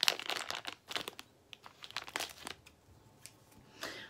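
Crinkly plastic blind-bag packaging from a Dollar Tree haul is cut and torn open, giving close, irregular crackling and crunching bursts, with nobody talking.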